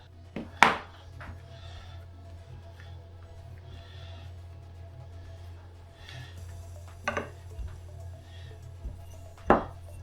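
A few sharp knife chops cut through dough on a board at irregular intervals over a low steady background hum, with no talking.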